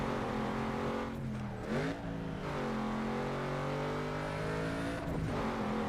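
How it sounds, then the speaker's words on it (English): Race car engine in the PS2 game Need for Speed: Underground 2, roaring loudly and continuously at high revs. Pitch dips and climbs through gear shifts, with no talk over it. "Right, 3 laps down, and still 1 lap to go."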